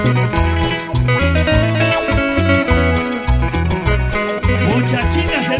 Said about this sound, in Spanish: Vamos a ir con éxitos y empezamos con la pachanga.